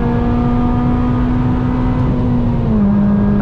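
BMW GS 1200 motorcycles accelerate on a highway, producing a loud, steady engine drone with a strong tone. The pitch dips slightly near the end.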